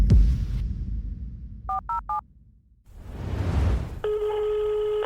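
Telephone call being placed: three short dialing tones in quick succession, a burst of rustling noise, then a steady, clear ringing tone, close and alone without talk.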